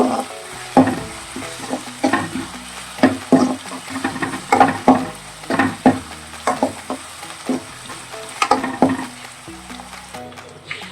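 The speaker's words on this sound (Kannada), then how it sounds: "ಆನಿಯನ್ ಚೆನ್ನಾಗಿ ಫ್ರೈ ಆಗಿದೆ" Onions frying in a pan for a spicy palak gravy, sizzling steadily while a spoon stirs them in repeated scraping strokes, close and fairly loud, with no talk.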